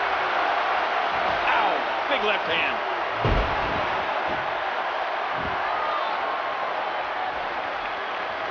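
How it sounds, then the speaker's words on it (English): A wrestling crowd at a SECW Solar Smackdown event cheers and applauds in a steady roar, with a sharp slam landing midway and a commentator talking over the noise. "Would you listen to this crowd show their appreciation for these amazing competitors?"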